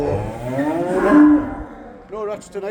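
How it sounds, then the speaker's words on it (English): Cattle moo loudly and close by inside a barn at night, one long low call followed by shorter ones, with someone talking quietly over the end. "Sorry about the noise with the cows"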